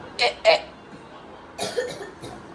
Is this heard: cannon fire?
no